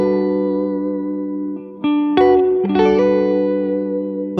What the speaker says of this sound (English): And you hear that pinky hammer on.